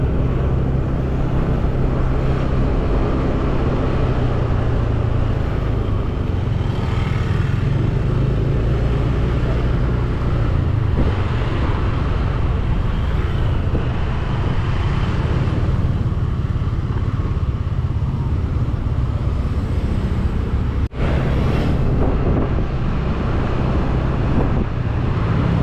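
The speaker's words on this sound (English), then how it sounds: "Also right side, they are driving motorbike." Steady motorbike traffic on a street in Bali, a continuous engine rumble and drone from passing bikes with wind buffeting the microphone throughout and no clear pauses.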